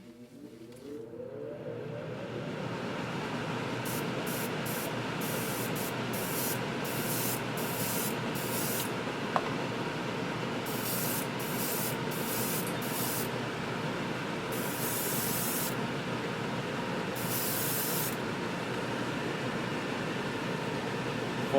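An airbrush sprays black paint while a spray booth fan roars steadily nearby, a continuous loud hiss and whoosh with short bursts of higher-pitched spraying on and off throughout.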